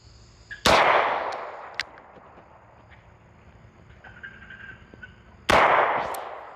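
Two sharp, loud shots from a Korth Mongoose .357 Magnum revolver, a 2.75-inch carry special, ring out about five seconds apart outdoors, each with a booming report that decays into a long echo.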